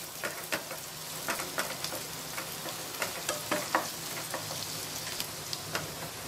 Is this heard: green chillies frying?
yes